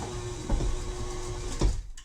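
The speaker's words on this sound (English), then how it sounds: "I didn't lock my mixer down, so it's got the shakes." Unlocked stand mixer rattling and shaking on the counter while beating cookie dough with chips, a steady motor hum with a couple of louder knocks near the end.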